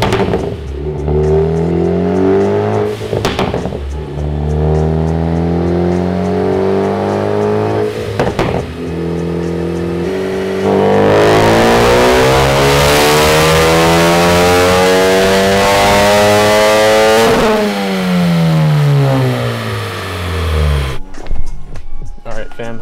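A tuned car engine revs hard on a dyno during a horsepower run with the stock intake removed, a long sustained roar climbing in pitch through the gears, loud and close, ending in a sudden cut-off.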